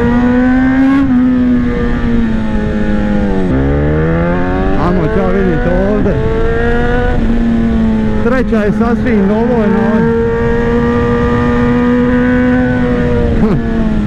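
Inline-four engine of a 2018 BMW S1000RR sport motorcycle revving loudly and steadily, pitch rising and falling through several throttle blips, with someone talking over it.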